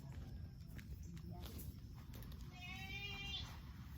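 Goats bleat in short wavering calls over a steady low rumble and shuffling, with a longer quavering bleat near the end.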